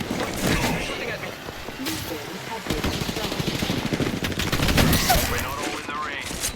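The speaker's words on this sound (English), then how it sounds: "They're shooting at me." Rapid gunfire from an Apex Legends match rattles almost nonstop, dense bursts layered with game effects and occasional player voices throughout.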